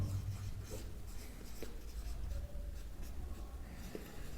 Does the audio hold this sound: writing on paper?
yes